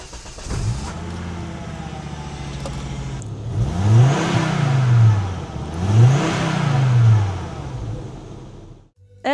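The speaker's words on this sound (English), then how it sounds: "When we hear the engine in neutral, keep in mind that it is turbocharged" A turbocharged car engine revs in neutral while stationary, rising and falling in two strong bursts before settling to idle, close by and loud.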